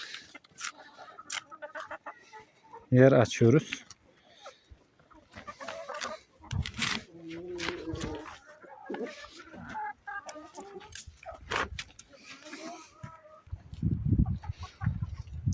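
Gurk chickens cluck and squawk in bursts close by in a garden, with someone speaking briefly between the calls.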